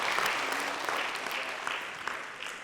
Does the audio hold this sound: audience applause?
yes